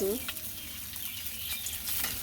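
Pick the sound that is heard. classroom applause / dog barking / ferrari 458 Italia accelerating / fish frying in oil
fish frying in oil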